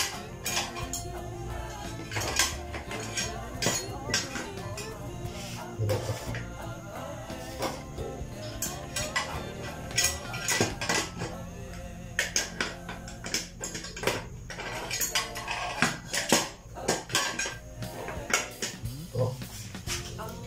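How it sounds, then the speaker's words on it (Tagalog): Pots and a pressure cooker lid clatter and knock repeatedly in a busy kitchen while bulalo with mung beans is prepared, the metallic clanks irregular and fairly close, mixed with background voices and household noise; the pressure cooker is broken. "At takpan natin yung pressure cooker"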